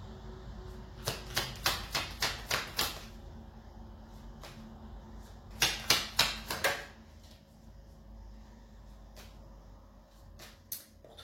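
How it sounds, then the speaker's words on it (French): Cards shuffled in bursts of quick, crisp riffling flicks, two clear runs separated by quieter handling, from a tarot-style advice deck during a reading; near and fairly soft, with no talking. "je vous tire maintenant les petites cartes conseils pour tous les poissons"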